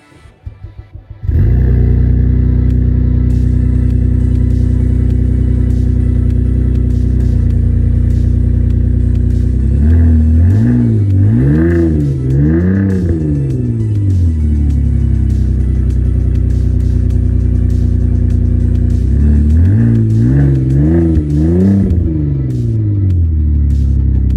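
A 2008 Saab 9-3 XWD turns over and catches on a cold start, settling into a loud, steady idle, then is revved hard twice in separate bursts, the pitch climbing and falling each time.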